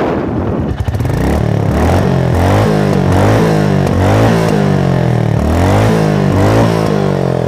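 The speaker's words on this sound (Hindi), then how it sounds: "सबसे पहले मैं आपको इस बाइक के एग्जॉस्ट के साउंड को चेकआउट करा देता हूं।" A 2022 Royal Enfield Meteor 350 motorcycle engine idles and revs repeatedly up close, its thumping exhaust rising and falling in loud, rhythmic bursts.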